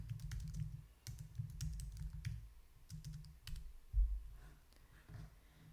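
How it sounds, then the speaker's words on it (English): Someone types a search query on a computer keyboard, quick close clicking keystrokes in short bursts with small pauses, fairly quiet, without talking. "I'm gonna type in furnace repair Jacksonville"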